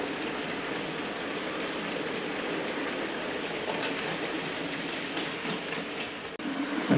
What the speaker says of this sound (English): here's another view of the loco going through our part of the track where we fixed a crossover